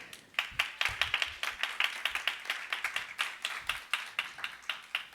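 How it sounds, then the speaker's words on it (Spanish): A church congregation claps in a steady, rhythmic beat, many hands together at moderate volume filling the room without talk. "gracias por esas palmas"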